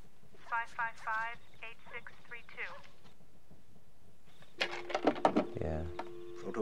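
Telephone dialing tones play from a scene in the 1983 film War Games, with a short run of steady pitched tones that starts after a stretch of quieter speech. The tones are moderately loud and heard alongside movie dialogue.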